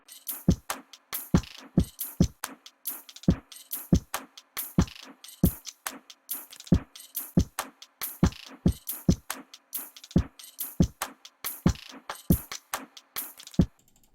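A lofi beat built from stick hits, claps and snaps, with sharp percussive strikes repeating in a steady groove, crisp and close with no voices.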